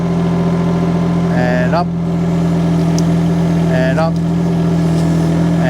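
A mini excavator's engine hums steadily at idle and rises slightly as it strains to pull up a fruit tree, with a person talking over the continuous loud drone.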